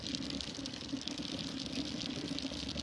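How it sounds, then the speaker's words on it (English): A steady crackling sizzle of American beef steak cooking on a hot plate, with a constant low hum underneath, unchanging throughout. "That is the sound of an amazing American piece of beef cooking"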